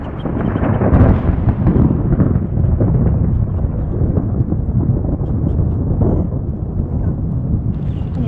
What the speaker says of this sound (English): Oh my God, the thunder and lightning is so close.